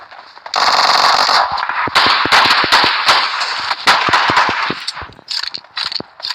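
Gunfire in the mobile shooter PUBG Mobile, with a sharp shotgun blast followed by rapid cracking shots, mechanical clicks and dense game noise over several seconds.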